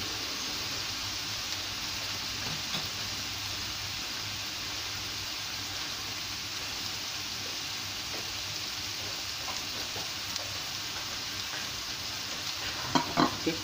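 Blended paste with dried shrimp fries in a wok, giving a steady, even sizzle with occasional stirring scrapes and a few sharper crackles near the end, and no talking.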